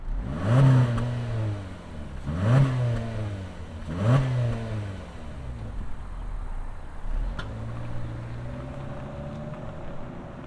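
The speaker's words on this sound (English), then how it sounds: "let's fire up this 4-banger and hear what it sounds like" A 2025 Honda Civic Sport four-cylinder, in Rally Red, starts up and revs, with three sharp rising and falling revs in quick succession, then a fourth blip settling into a steady idle, close and fairly loud, with no talking.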